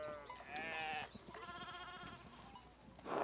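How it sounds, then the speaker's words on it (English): Sheep in the medieval village game Pentiment bleat in several drawn-out, wavering calls, close and fairly loud, with a brief pause between them and a final short bleat at the end. "we need to get these sheep under control"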